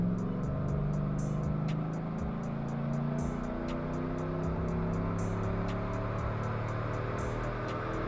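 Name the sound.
Summit Racing 450HP 5.3 engine revving during dyno pull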